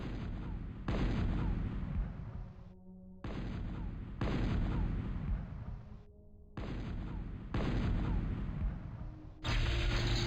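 Rapid bursts of unit gunfire and artillery booms from the Total Annihilation strategy game come in loud, dense stretches, broken by several brief quiet gaps, with no talk over them.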